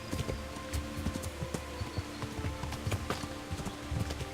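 Hooves of a horse galloping in the Kingdom Come: Deliverance video game, a steady stream of rhythmic clip-clop beats over a continuous outdoor ambience, fairly close and moderately loud with no talking.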